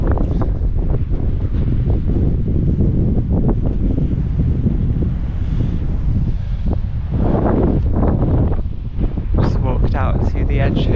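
Strong wind on a high coastal cliff path in Cornwall between Perranporth and Newquay, roaring and buffeting the microphone without a break, loud and close throughout.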